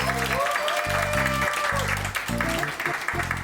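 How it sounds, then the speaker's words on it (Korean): An audience applauds at a live event welcoming a guest to the stage. The clapping runs throughout, heavily mixed with loud, pulsing background music. "네, 박수!"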